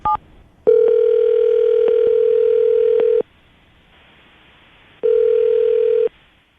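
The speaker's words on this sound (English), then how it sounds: "we're going to give her a call right now" A telephone call rings out over the line: a short tone, then two long steady ringback tones separated by a pause of silence, clear and fairly quiet with no talking.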